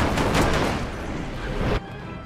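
Golden guns fire in a rapid, loud barrage during a Stranglehold firefight, dense shots blending into one another before cutting off abruptly near the end.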